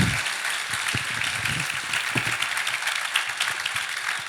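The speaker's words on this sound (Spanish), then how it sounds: "Aleluya. Aplauda con gozo." A church congregation at a Sunday service claps and applauds together, a dense, steady wash of hand claps that fills the whole stretch without pause.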